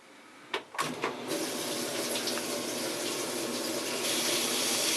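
Hot water runs from a tap while an old 30-year-old 50-gallon electric water heater is drained. A few close knocks come first, then a loud, steady, unbroken gush that stays close and alone.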